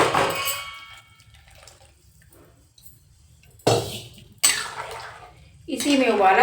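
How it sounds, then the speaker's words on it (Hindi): Water is poured into a cooking pan for besan gatte curry in a home kitchen, a couple of short splashing pours with pan clatter between stretches of talk. "पूरा पानी डालेंगे।"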